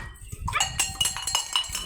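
A dog barks and yips repeatedly in a domestic comedy scene, a quick series of close, sharp, high barks with some whimpering, loud and without talk over it.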